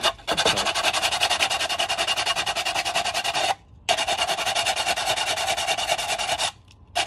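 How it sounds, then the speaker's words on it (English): Plastic mannequin head being sanded by hand with sandpaper, loud close rasping strokes in a fast, even rhythm, broken by two short pauses. "see if maybe I can also shape it a little bit using the sandpaper"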